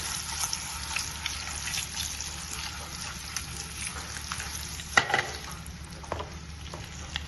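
Eggs sautéing in chili powder masala in a pan for a dhaba-style egg masala give a steady, close frying sizzle, with a few sharp clicks of a spatula about two-thirds of the way through.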